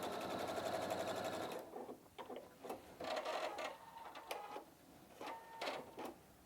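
A Pfaff Performance 5.2 sewing machine runs a fast, even burst of top stitching along a fabric edge, then falls quiet apart from faint clicks and handling sounds.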